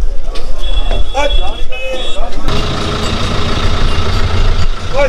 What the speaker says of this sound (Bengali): আমাদের গাড়ি ছেড়ে দিল ক্যানিং বাস স্ট্যান্ড থেকে